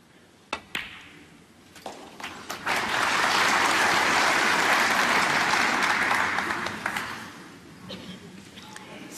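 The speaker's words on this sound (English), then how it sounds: "he's getting applause for every shot he plays at the moment" Snooker crowd at the German Masters final bursting into applause after a shot: a few sharp ball clicks, then clapping swells, holds loud for several seconds and fades out.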